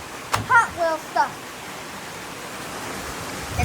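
A waterfall rushes in a steady, unbroken broadband roar that fills the whole clip, with a short burst of speech near the start laid over it.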